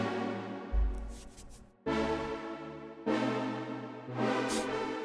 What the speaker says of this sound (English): My main synth sound,